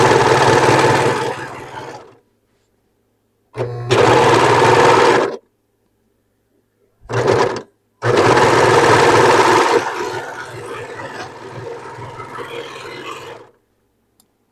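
A sewing machine stitches a dress being remade from one of the wrong style and size, running in loud, close bursts of motor whir separated by short silences, the last run trailing off softer; no one speaks.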